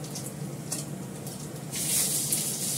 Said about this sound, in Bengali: অল্প করে তেল দিলাম, পেঁয়াজটা একটু হালকা ভেজে নেব